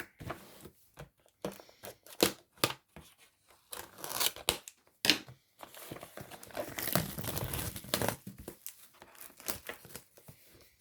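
Scissors snip and rustle through crinkly packaging in a quick run of sharp cuts and crackles, with brief pauses between bursts.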